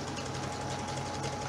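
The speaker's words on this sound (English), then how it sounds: "do a zigzag stitch right on the other, like on the inside edge of where I did the straight stitch" A sewing machine runs a zigzag stitch along the inside edge of a ribbon skirt seam, a steady, dense mechanical whir with no pauses, close and fairly loud throughout.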